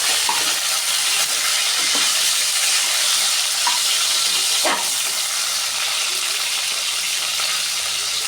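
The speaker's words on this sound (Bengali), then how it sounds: "এরপরে ওই তেলের মধ্যেই আমি আলু আর ফুলকপি দিয়ে হালকা করে আমি ভেজে নিচ্ছি।" Potato and cauliflower pieces fry in oil left over from frying fish, a loud continuous sizzle and hiss heard close up. A few stirring scrapes and clinks break in, with no talking.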